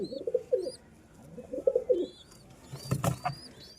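Pigeons coo in low, soft rolling phrases, two bouts close by, followed by a brief flutter or scuffle near the end.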